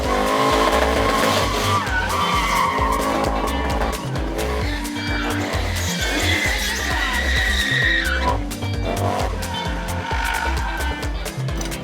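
Soweto drifters' cars drift before the start of a race, with loud, sustained tire squeal and screeching over roaring engines, continuous and close throughout, with some voices mixed in.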